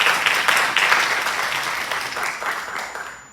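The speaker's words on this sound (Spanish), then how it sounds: "Un fuerte aplauso también, por favor." A seated audience at an entrepreneurship talk breaks into loud, sustained applause, a dense wash of clapping that fades slightly over a few seconds.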